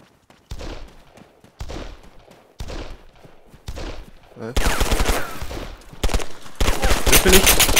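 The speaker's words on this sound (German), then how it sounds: "Ich werde beschossen" Gunfire rings out in the Arma 3 battle royale: four spaced single shots with echoing tails, followed by rapid bursts of automatic fire, loud and close.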